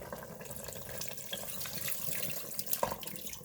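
Beef broth pours in a steady splashing stream into a Cuisinart pressure cooker holding a chuck roast and vegetables, close and alone for a few seconds.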